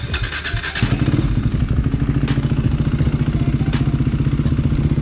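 An RC 390 motorcycle engine buzzes steadily at close range with a fast, even pulse and some clattering, running continuously without any talk.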